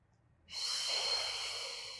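A forceful exhale blown out through the mouth during a Pilates exercise, starting after a short silence and holding as a steady, close breathy rush for about a second and a half before easing off slightly.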